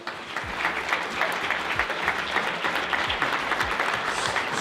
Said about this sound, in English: I'd like to give them a round of applause right now